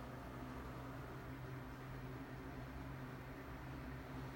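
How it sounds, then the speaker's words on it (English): Steady, droning house ventilation fan running at maximum speed, with a constant low hum and broadband whoosh, unchanging throughout. "There's your vent at its maximum noise level."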